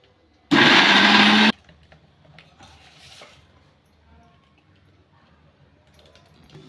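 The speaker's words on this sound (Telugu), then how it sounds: "చల్లగా అయింది. మిక్సీ కొట్టేసుకుందాం." A mixer grinder whirs loudly for about a second as it blends a cooked onion and tomato gravy, stopping abruptly, followed by quiet kitchen clatter and faint handling sounds.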